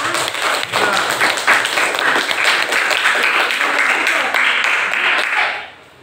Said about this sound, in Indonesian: kita kasihlah tepuk tangan untuk kawan kelompok kita